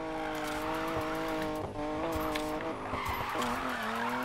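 A car in the Need for Speed Payback video game skids through a drift on a weak handbrake, its engine droning steadily while tires squeal in close, continuous smears.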